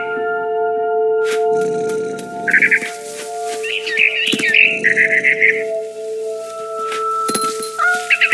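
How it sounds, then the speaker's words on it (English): Short, high chirps of a barn swallow in the game What Remains of Edith Finch, coming in small bursts over sustained tonal ambient music with scattered soft clicks. "I heard chirping outside my window. It was a barn swallow going back to her nest."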